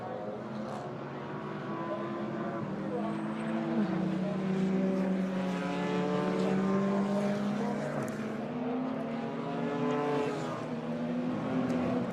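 DTM Trophy race cars roll around the Assen circuit on a 2021 formation lap, several engines droning together in overlapping steady tones that swell and fade gently, fairly close and continuous throughout.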